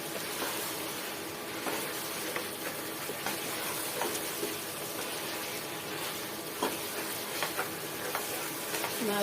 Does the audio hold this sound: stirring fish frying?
yes